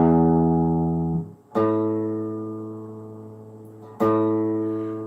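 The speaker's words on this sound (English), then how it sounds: "Let's tune my guitar up." A guitar is being tuned: a strummed chord rings out and decays, then is struck again twice with a short pause between, each ring sustained and fairly loud.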